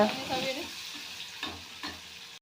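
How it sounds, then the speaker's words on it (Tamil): Onions and curry leaves fry in a pan for dried prawn curry with a soft steady sizzle, occasional stirring scrapes, no talking. "வெங்காயமும் கருவேப்பிலையும் நல்லா ஃப்ரை ஆகிடுச்சுங்க."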